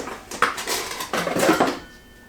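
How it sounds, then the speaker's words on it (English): Stainless steel clanks and clinks as an All-Clad D3 3-quart saucepan and its lid are handled, a run of close metallic knocks and scrapes over about two seconds, then quiet. "Now we have the 3-quart saucepan with lid."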